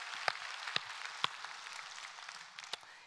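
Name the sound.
congregation applauding during a church service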